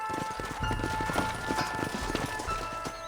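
Several horses in the Red Dead Redemption video game slowing to a halt, their hooves clip-clopping in a busy, uneven patter close by with a little harness jingle, and no voices over them.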